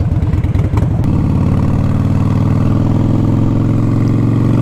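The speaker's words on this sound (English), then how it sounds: "Great day to be riding your Softail Springer." A Harley-Davidson Softail Springer motorcycle engine runs steadily and loud up close while riding, with a few uneven throttle pulses at the start before settling into a continuous deep rumble.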